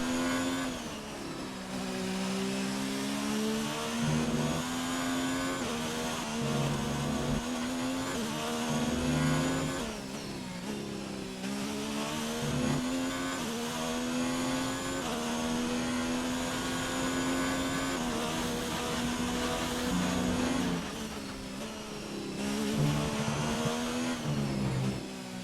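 A Formula 1 car engine from the F1 2019 video game screams through a lap in Austria, rising in pitch through each gear, dropping briefly at upshifts and braking, loud and continuous with no talk.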